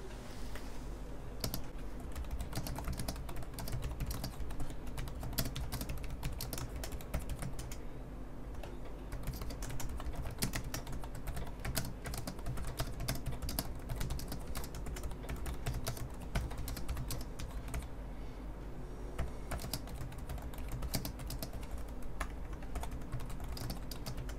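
Fast, continuous typing on a Subblim Dual Prestige extended keyboard, rapid close-miked key clacks with brief pauses, no talking.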